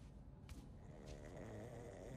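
A sleeping character in the video game Spider-Man Miles Morales snores steadily, a low rumbling drone with a couple of brief breathy snorts, moderately close and with no talk over it.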